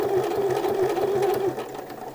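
A sewing machine runs steadily along the short edge of an interfaced shirt collar, with a fast even mechanical stitching rhythm and a humming whine, close up and alone.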